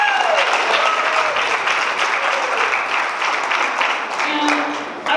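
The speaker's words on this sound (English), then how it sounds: "Clapping for that." Wedding guests applauding at a reception, a loud, sustained round of clapping with a tonal voice or note sliding underneath at the start, fading a little before a voice resumes at the end.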